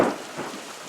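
Close thunder rumbles through a rainstorm in Prescott, Arizona, a single loud low burst at the start that fades under steady rain hiss.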